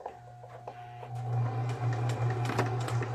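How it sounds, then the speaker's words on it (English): A sewing machine stitches the front sides of a dress together, starting softly and then whirring in a steady mechanical hum with clicks and small ticks at close range. "Get to sewing the front sides together."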